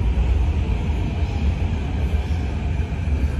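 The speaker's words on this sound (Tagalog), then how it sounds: "Parating pa lang yung tren." A driverless automated subway train pulls into Outram Park station in Singapore, a loud, steady rumble and hiss of wheels and motors filling the platform, with no talk.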